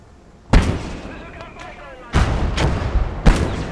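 Artillery gun firing in a war video game set in snow, three heavy booming shots spaced about a second or more apart, with a rumbling tail after each and a voice speaking in the background.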